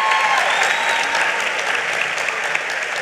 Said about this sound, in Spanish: Dese un aplauso a ustedes mismos.